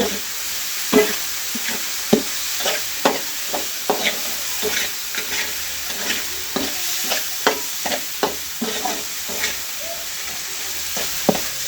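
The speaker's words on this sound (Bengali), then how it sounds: "এবার আমি এগুলির সঙ্গে মিশিয়ে দেব। নেড়ে চেড়ে নিচ্ছি।" Beef is stirred with fried spice masala in a pan, giving a steady sizzle broken by repeated sharp scraping clicks of the spoon in an irregular rhythm, close and clear.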